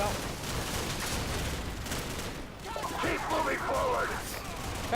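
Gunfire crackles in Call of Duty 4: Modern Warfare as a dense, continuous stream of rapid shots, with a voice speaking over the battle noise toward the end.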